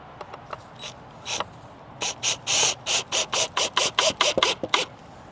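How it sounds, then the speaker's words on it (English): A shelf is screwed into place, heard as a close run of rapid, evenly spaced ratcheting or driving bursts that follow a few scattered clicks and taps. "you just want to screw this shelf in"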